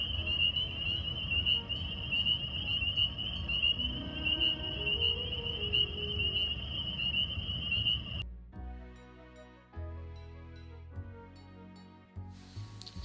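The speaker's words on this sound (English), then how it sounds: "Listen to how loud the peeper frogs are." Spring peeper frogs at Harris Neck National Wildlife Refuge call in a loud, continuous, high-pitched chorus of rapid peeps for about eight seconds before the sound abruptly cuts away.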